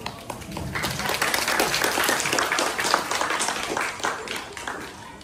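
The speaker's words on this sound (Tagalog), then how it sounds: "Palakpak." Audience at a cultural show applauds with dense, steady clapping that swells and holds for several seconds, moderately loud and without talk on top.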